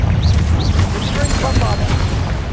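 A Confringo spell blast in the video game Hogwarts Legacy: a loud, continuous booming rumble with a rapid series of whooshing, crackling bursts layered over it.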